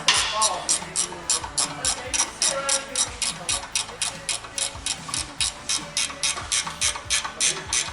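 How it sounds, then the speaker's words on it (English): A ratchet wrench clicks rapidly and evenly while tightening bolts on a Pedal Pro Max deck-lift pedal kit for a zero-turn mower, a close, steady run of loud ratcheting strokes. "I'm glad you got one of them twisty turny wrenches there. It makes it a lot quicker, doesn't it?"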